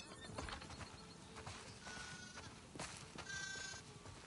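Sheep bleat in the video game The Last of Us Part II on a farm at herding time, a few short calls at moderate distance with faint hoof-like clatter and light ambient noise.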